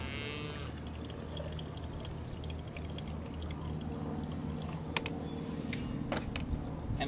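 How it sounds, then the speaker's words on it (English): Hot water is poured into a thermos in a steady, continuous stream whose pitch rises as the flask fills, ending with a few small clinks and knocks. "I'm going to put my hot water in my thermos"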